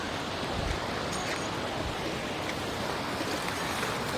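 Steady rushing and splashing of water with broadband noise throughout, like wading through a shallow flowing stream, a small river feeding the Narmada, no voices.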